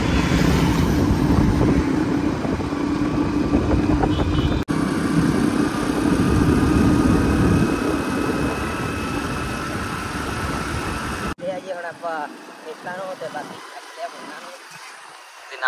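Scooter and motorcycle engines hum steadily close by for most of the stretch, wind-buffeted, then cut out as a voice speaks over quieter background.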